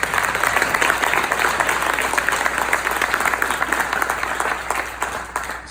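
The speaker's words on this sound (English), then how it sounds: "Can we please give them a round of applause?" At a community keynote event, a crowd claps for scholarship recipients in a continuous, full round of applause that holds steady and loud, with no talk on top.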